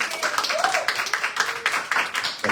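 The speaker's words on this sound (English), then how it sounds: "Another round of applause for Jeremy." Scattered audience clapping at a community talk, a small crowd making uneven bursts of claps with brief voices mixed in.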